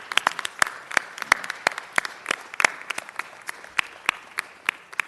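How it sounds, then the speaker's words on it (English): An audience applauds at a city council meeting, a sparse, steady patter of claps from a modest crowd in a hall, moderately loud and continuous without voices over it. "Ladies and gentlemen, let's give a round of applause to Gary Tobin."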